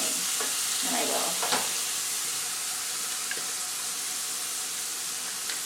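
Jalapeno popper chicken ingredients being sautéed in a hot pan give a steady broadband sizzle with a few stirring scrapes near the start, fairly loud and continuous with no talking.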